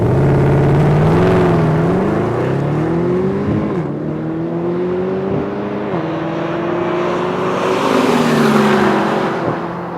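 A 2013 Mercedes-Benz SLS AMG GT coupe on a race track, its engine revving up and down through gear changes, loud and close, pitch rising and dropping before a final surge.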